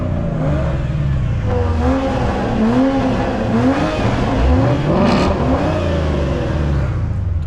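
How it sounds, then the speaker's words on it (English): Cars revving their engines while drifting, with several rising and falling engine notes that overlap steadily and loudly, along with a swelling surge of acceleration toward the end. "All I have to do is tempt him a little with, you know, some revs and he's gonna start revving too"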